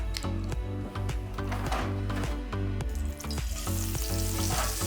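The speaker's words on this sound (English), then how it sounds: "that nice sizzle around the outside of the steak" Loud, steady sizzling of steak searing in a hot pan with thyme, with crackling pops throughout and a brief dip near the end.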